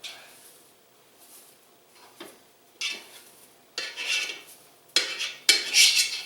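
A nylon heat-resistant fork stirs marshmallows in a pot, giving intermittent scraping and clinking strokes that start soft and grow louder and busier toward the end, with no talking.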